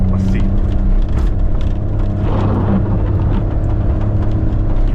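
A Maruti Alto's small engine drones steadily in second gear while climbing through Shimla's tight streets, a low continuous hum with road and wind noise and a voice talking over it.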